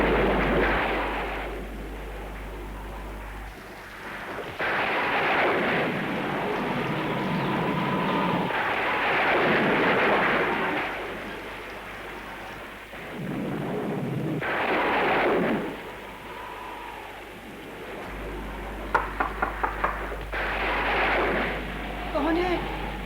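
Thunderstorm on a stormy night in an old television drama: heavy booming rolls of thunder break out in repeated loud bursts, each swelling and fading, with crackling sharp claps near the end.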